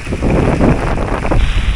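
Strong typhoon wind roars steadily across the microphone in San Pablo City, Laguna, a dense low rumble with gusty swells and no voices.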